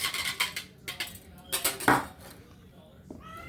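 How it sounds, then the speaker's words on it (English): Buttermilk being whisked in a bowl for blueberry butter swim biscuits, heard as a series of quick clinking and scraping strokes of utensil against the bowl, close and moderately loud, with short pauses between bursts. "Give this buttermilk a little whisk."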